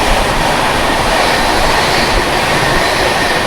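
A Duronto Express runs on the rails, heard from inside a general compartment as a loud, steady, unbroken rumble and rattle of wheels and carriage.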